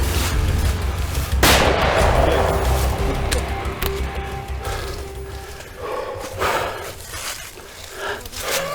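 Gunshots ring out during a buffalo hunt in Zambia, a loud sharp report followed by a lingering echo and then several fainter knocks and rustles outdoors, with no clear talk.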